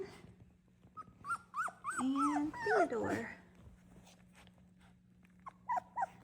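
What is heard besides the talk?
puppies whimpering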